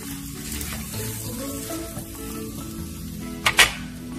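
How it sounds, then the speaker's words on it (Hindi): Chicken pieces for jalfrezi frying in a pan, a steady close sizzle throughout, with two sharp little clatters near the end. "अब इसको अच्छी तरह फ्राई करना है ताकि इसका कलर जो है वो बिल्कुल चेंज हो जाए"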